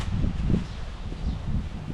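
Strong, cold wind blows steadily in the late afternoon, a low rumbling rush with gusts of buffeting noise close to the microphone.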